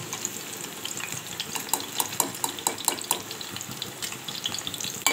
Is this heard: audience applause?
no